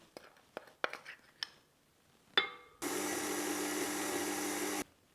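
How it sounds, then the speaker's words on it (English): An electric Mix Master stand mixer runs at its lowest speed, mixing flour into pudding batter, a steady even whir lasting about two seconds after some light clinks and taps of utensils and a bowl. "don't be tempted to turn your mix master on fast, just have it on the absolute lowest"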